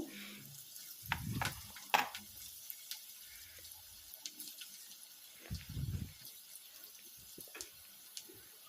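Snacks drop into medium-hot oil for deep-frying, giving bursts of sizzling and bubbling with soft clinks and splashes in between, fairly quiet and close.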